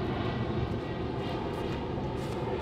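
A drone flying outdoors, a steady, loud whirring engine-like hum that holds constant throughout, with no voices over it.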